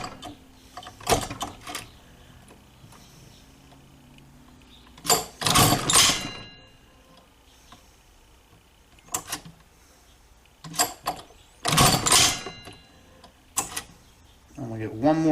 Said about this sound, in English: I can go ahead and let the machine set the stitch length.